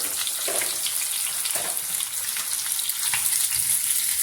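Onions fry in hot coconut oil for a chutney, giving a steady, bright sizzle with a few crackles and pops and no voices.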